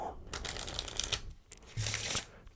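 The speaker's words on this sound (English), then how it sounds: "Give the deck a few cuts, give it even a wee shuffle." A deck of playing cards being cut and given a quick riffle shuffle up close, crisp rapid fluttering bursts with brief pauses between them, loud and intimate with no speech.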